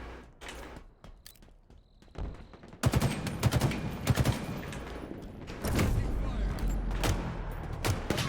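Rapid gunfire bursts in Halo Infinite as a player shoots at an enemy sniper, with loud dense volleys and clattering shots building over several seconds, mixed with game effects.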